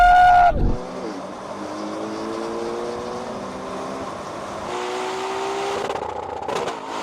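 A Ferrari Purosangue, a BMW X5 M and a Chinese SUV drag race. Loud engines roar steadily, and rising gear-change tones repeat as the cars accelerate together, with a brief shift at the start.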